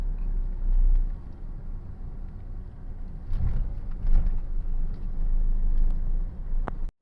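A car driving through a storm-damaged village in Trang, Thailand, its low engine rumble and road noise steady and close throughout, with no talk.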